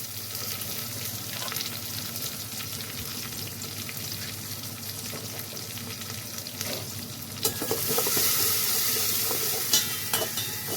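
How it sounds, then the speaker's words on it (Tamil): Onion sautés in a pan with a pinch of asafoetida for a brinjal and drumstick sambar, a continuous close sizzle that swells louder and brighter partway through. "வெங்காயம் நல்லா வதங்கட்டும்"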